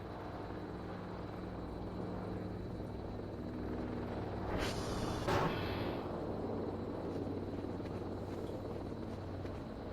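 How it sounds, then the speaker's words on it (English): A drone in the video game Voices of the Void gives off a steady low hum that swells and passes close near the middle, then settles back to a constant drone, with no talking. "There's the drone."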